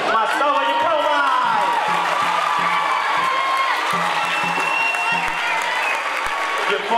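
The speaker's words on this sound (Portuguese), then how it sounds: "Uma salva de palmas!" Students at a school sports event give a round of applause, clapping and cheering over continuous crowd noise, with voices and whoops mixed in throughout.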